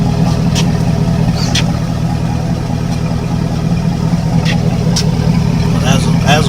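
A 1998 Chevrolet Suburban with a swapped 5.3-liter V8 runs steadily close by, its low engine note held under a constant drone with small surges as the throttle is blipped.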